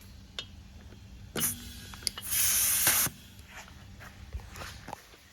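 Compressed air hisses from an air hose hooked to a nitrogen exchanger: a short burst, then a louder steady hiss of about a second before it cuts off, with faint clicks and handling noises around it.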